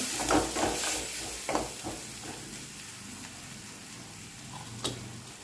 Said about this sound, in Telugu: ఈ పసుపు ఉల్లిపాయలు అంతా కలబెట్టుకోవాలి